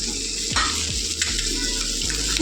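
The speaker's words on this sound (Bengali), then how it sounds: "ভেন্ডিগুলো দিয়েও কিন্তু এর সাথে এবার ভালোভাবে নাড়াচাড়া দিয়ে নেবো" Okra fries in spiced oil, giving a constant close sizzle while a spoon knocks and scrapes against the pan in a few distinct strokes.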